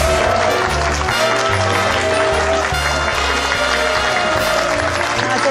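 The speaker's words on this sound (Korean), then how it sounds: "여러분 큰 박수로 맞이해 주시길 바랍니다" A studio audience claps loudly to welcome a guest speaker onto the stage at a lecture show, with a continuous wash of applause running under loud stage music that thumps along throughout.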